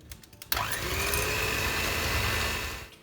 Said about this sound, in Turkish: Şeker ve peynir iyice karışana kadar güzelce çırpıyorum.